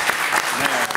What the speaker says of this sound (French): Oui, on peut applaudir Bob Morlon s'il vous plaît.